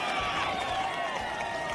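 An audience in a strip club fills the room with applause and cheering for a dance act called the Gypsy Girls, a dense, steady roar of many hands with raised voices woven through it.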